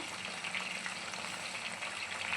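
Curry leaves sizzle in hot oil on a low flame alongside hibiscus flowers and leaves, a homemade herbal hair oil in the making; a steady, close, even crackling hiss runs throughout with no talking.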